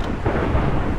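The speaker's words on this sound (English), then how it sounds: "Man, listen to that thunder." Thunder rumbles in a stormy Minecraft game, a deep, loud roll lasting about a second with no voices over it.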